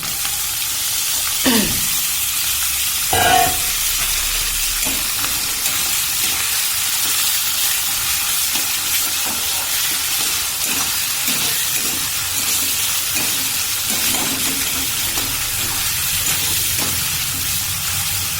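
Goat fat and turmeric frying in a pan, a loud continuous hiss and sizzle with a couple of sharp utensil knocks early on and soft stirring scrapes, no voices.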